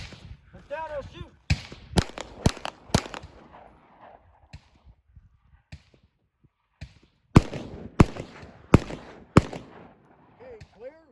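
Rifle gunshots during tactical training, sharp loud cracks fired in quick bursts of three or four with pauses between, while voices talk and give commands in the gaps.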